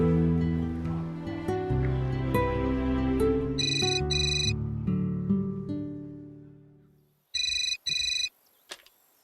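Phone ringback tone on an outgoing call, two clear ringing bursts at the end after a stretch of background music, loud and alone.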